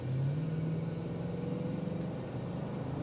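A 1992 Mercedes-Benz 500SEL accelerating smoothly, a steady mid-low engine drone rising gently in pitch, heard from inside the car without talk.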